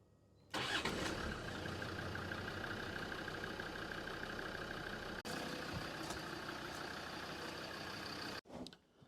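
A Land Rover Td5 diesel engine fresh from an oil change starts up and settles into a steady clattering idle for several seconds before cutting off abruptly.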